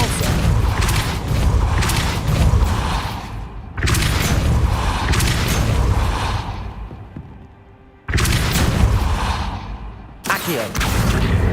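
Repeated Depulso force-blast spells cast in the wizarding game Hogwarts Legacy, each a heavy whooshing boom that swells and fades, four blasts in sequence with short gaps between them.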